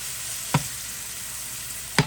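Shaved beef with peppers, onions and mushrooms sizzles steadily in a pan, a constant frying hiss broken by two sharp utensil clicks.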